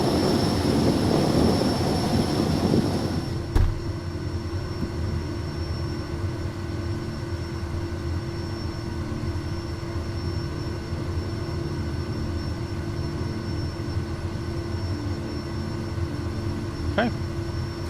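Kodiak 100 single-engine turboprop taxiing in a flight simulator, a steady engine drone and high whine that carries on alone after a louder rumbling start, with a brief click partway through.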